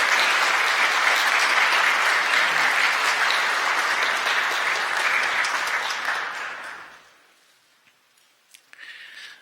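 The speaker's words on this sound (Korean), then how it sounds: "여러분들 환영의 박수 부탁드리겠습니다." A church congregation at a Sunday morning service claps to welcome new members. The dense, even applause lasts about seven seconds, then fades quickly into near silence with a few faint, scattered sounds.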